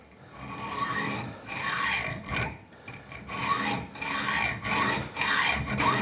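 A hacksaw cuts a small metal piece clamped in vice jaws, with steady back-and-forth rasping strokes, about two per second, close and clear with short pauses between pushes.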